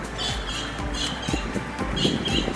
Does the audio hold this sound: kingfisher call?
yes